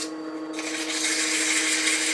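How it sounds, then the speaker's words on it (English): Sandpaper at about 120 grit presses against a small wood turning spinning on a lathe, a steady close rasping hiss over the motor's constant hum, growing louder as contact begins. "I'm going to sand initially at about 120"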